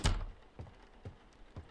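A door thuds shut in a baby-themed horror video game, a soft low knock followed by a few quieter bumps and a sharper knock at the end, heard alone without talk.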